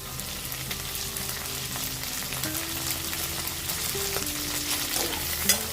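Onion and tomato sautéing in a pan for Chettinad-style kosumalli, a steady close sizzle and fry crackle with occasional stirring scrapes, no voices.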